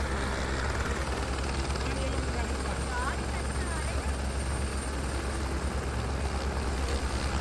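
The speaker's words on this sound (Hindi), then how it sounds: "तब तक हम देख रहे हैं हेलीकॉप्टर्स की लैंडिंग और हेलीकॉप्टर्स का टेक ऑफ" Helicopters landing and taking off at the Kedarnath helipad, a loud, constant rotor and engine roar filling the whole stretch without letup, with voices faintly mixed beneath.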